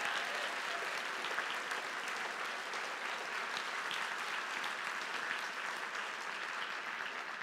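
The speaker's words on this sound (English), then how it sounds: "Can we get a really big round of applause for the team," A seminar audience claps for the team, a steady, dense round of applause from many hands that holds evenly for several seconds, moderately distant and without talk.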